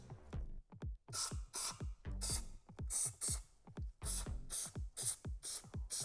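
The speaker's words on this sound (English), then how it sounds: "We just put the tube in and spray the dirt out." Repeated short bursts of pressurized cleaner spray through the barrel of a Beretta M9A3 9x19 pistol, hissing on and off in an irregular rhythm, each blast close and loud with brief gaps between.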